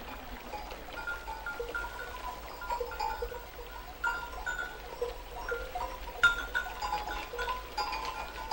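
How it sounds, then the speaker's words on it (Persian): Sheep and goats bleating at the water, scattered calls near and far over a steady outdoor background with occasional bell-like clinks. "گوسفنده ببر کنار."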